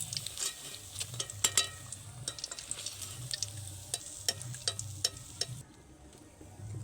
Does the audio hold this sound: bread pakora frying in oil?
yes